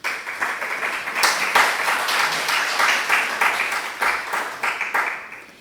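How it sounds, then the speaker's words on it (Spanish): Audience applause for Guillermo Schavelzon at a talk event, a dense, steady round of clapping filling nearly six seconds at full strength throughout. "Un aplauso para Guillermo"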